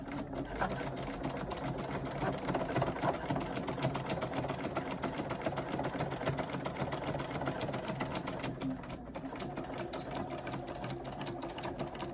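A sewing machine stitches a cloth face mask in one long steady run, a continuous close whirring rattle with no pauses and no talk over it.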